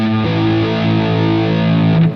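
Sustained distorted electric guitar chord rings out through a Bias FX 2 Pro rock preset with Plexi amp, Greenback speakers, cloner, reverb and delay, held steady and loud for about two seconds before cutting off.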